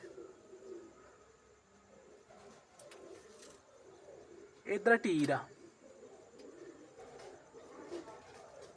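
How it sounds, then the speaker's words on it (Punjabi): Faint pigeon cooing in the background, with a brief louder flutter or call in the middle and someone speaking a few words. "ਇਹ ਜਿਹੜੇ ਕਬੂਤਰ ਤੁਹਾਨੂੰ ਮੈਂ ਦਿਖਾਉਣ ਲੱਗਾ ਆ"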